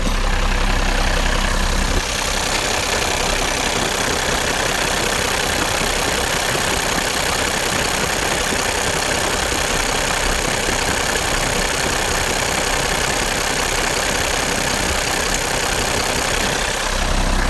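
An International S1900 dump truck's diesel engine runs steadily at idle close by, a continuous loud rumble with a knocking pulse that holds without change and no voices over it.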